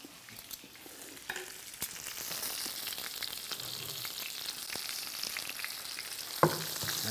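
Pork cutlets fry in a cast-iron pan on a wood-fired pot-belly stove in a shed, giving a building, continuous close sizzle with a few sharp clicks and one louder knock near the end, and no talking.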